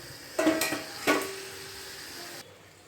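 Potatoes for a vegetarian aloor dum tipped into hot spiced oil in a pan, with two sharp clanks and scrapes of stirring against the metal, then a steady moderate sizzle that cuts off near the end.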